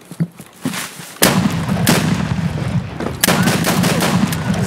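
Gunfire bursts in a video game shootout, a few quiet pops at first, then loud close shots and sustained rattling fire with sharp cracks at intervals.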